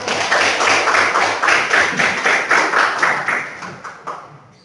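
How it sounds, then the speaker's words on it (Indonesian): Classroom applause for a student group during a guidance and counseling lesson, a dense burst of many hands clapping steadily for a few seconds before tapering off and fading. "Beri aplaus semua untuk kelompok."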